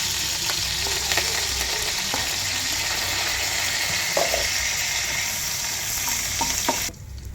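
Green chillies and curry leaves frying in hot oil, a steady, loud sizzle that continues throughout, with a few faint stirring clicks, close by.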